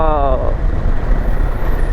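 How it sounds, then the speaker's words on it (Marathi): A truck grinds along the Amboli ghat road in the rainy season, a heavy low engine rumble with road noise that stays steady throughout, preceded by a brief voice at the very start. "हा ट्रक माझा सगळा व्ह्यू घालवतोय"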